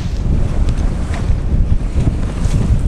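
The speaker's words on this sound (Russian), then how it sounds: "Вот такие у нас волны на этой речке бывают." Wind buffets the microphone on a sailing yacht out on river waves, making a loud, continuous roaring rumble with surging water splashes underneath and no speech.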